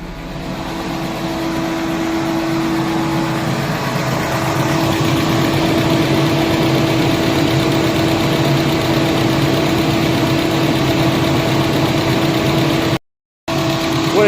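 An overheating Chevy Cruze 1.4 engine idles steadily with a constant hum and cooling fans whirring high, loud and continuous, briefly cutting out near the end.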